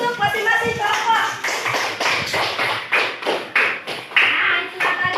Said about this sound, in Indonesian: Aplaus untuk masing-masing kelompok.